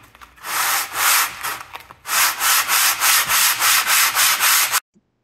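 Rhythmic rasping strokes of coarse sandpaper rubbing by hand over wood, a steady back-and-forth series of about ten close, loud scrapes after a brief pause, then silence.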